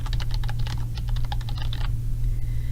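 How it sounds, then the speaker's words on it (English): Rapid typing on a computer keyboard while entering a question into an online form: a quick run of crisp key clicks for about two seconds over a steady low hum, then stopping. "I'll go ahead and select the name of the question and type in my first question"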